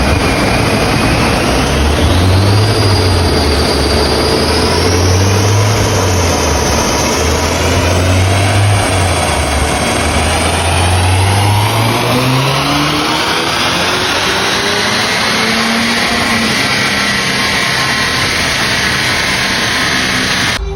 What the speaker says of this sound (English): just done a couple of power runs now on Scott's Clubsport